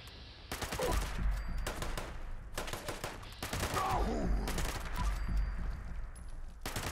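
A 10mm submachine gun fires in Fallout 76 in loud, rapid automatic bursts, several separated by short pauses, close and dominant over faint game ambience.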